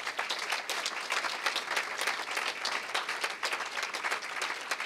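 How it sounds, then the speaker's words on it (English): Audience applause at an awards ceremony fills the room, a dense, steady wash of clapping from a sizable crowd with no speech over it. "let's give this excellent show a round of applause."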